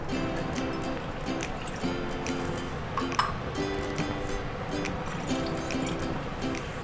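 Water trickles and splashes steadily into a metal wok on a gas stove, with a continuous liquid pour and occasional faint clinks throughout.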